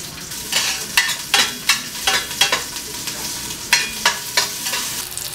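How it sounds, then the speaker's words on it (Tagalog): Garlic and onion sauté in a pan for beef tamis asim, with repeated stirring scrapes and a steady sizzle close by, the strokes coming at an irregular rhythm with no talking. "So mag-start lang ako sa pag-isa ng bawang at sibuyas."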